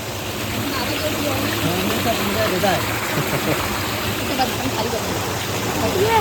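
Small waterfall in Alibag during heavy monsoon rain, a steady broadband rush of falling and splashing water that holds at a constant, fairly loud level throughout, with faint voices now and then beneath the roar.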